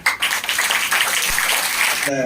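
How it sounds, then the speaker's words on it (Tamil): An audience at a school dental awareness camp run by Lions Clubs claps steadily in dense, continuous applause, with a voice cutting in at the end. "இவங்களுக்கு நன்றி சொல்லி கைதட்டுங்க"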